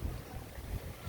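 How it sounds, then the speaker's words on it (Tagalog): Gusty wind buffets the microphone at a beach resort in Botolan, Zambales, a dull low rumble with soft irregular surges and no clear voices. "Ano, mahangin."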